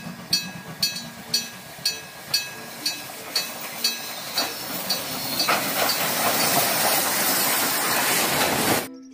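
A toy Thomas train chugs along with a steady run of evenly spaced clicks, about two per second, then shifts into a continuous loud hiss that holds until it cuts off abruptly.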